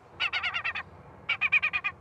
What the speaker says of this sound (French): Son de détresse de la mouette.